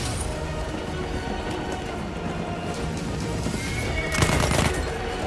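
A horse neighs in the Battlefield 1 video game, a drawn-out whinny rising near the end over a steady wash of rain-like battlefield noise. No one talks over it.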